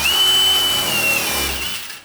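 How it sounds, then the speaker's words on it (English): Power drill boring larger holes through a 4-inch cowl hood on a car, a steady, loud high-pitched whine that runs for about a second before winding down. "I think we gotta get a bigger drill bit."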